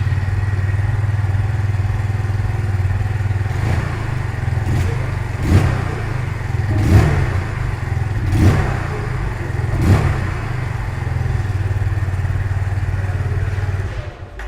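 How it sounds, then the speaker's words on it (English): Kawasaki W175 motorcycle idling with its pea-shooter style exhaust, a steady close single-cylinder putter punctuated by about five sharp throttle blips spaced a second or so apart, then dropping off at the end. "give you a listen of what the exhaust note sounds like"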